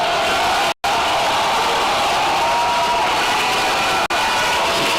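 A crowd at an outdoor political campaign rally roars and applauds for a Member of Parliament, a steady wash of clapping and cheering that stays loud and continuous from start to end.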